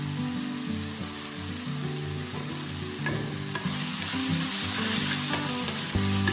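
Tomato sizzles as it fries with red chilli powder, turmeric and garam masala, a steady bright hiss with stirring scrapes and clicks throughout, close and continuous, no voices.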